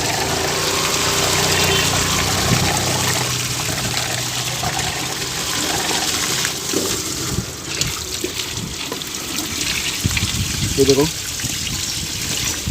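Water from a hose runs steadily through a car radiator, flushing out the coolant with a continuous, close gushing and trickling, while someone talks briefly.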